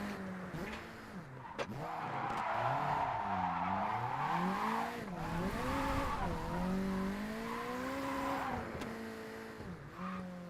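A car drifts under the handbrake, its engine note rising and falling in wavering sweeps while the tires squeal and skid continuously, close and loud for the whole stretch with no speech.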